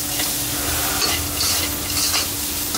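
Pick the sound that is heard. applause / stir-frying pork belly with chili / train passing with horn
stir-frying pork belly with chili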